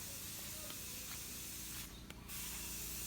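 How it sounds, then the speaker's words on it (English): A spray device hisses steadily at the main gate of a building under construction. The hiss is faint and continuous, with a brief swell near the middle and no talking. "Oh, see, they use the spray."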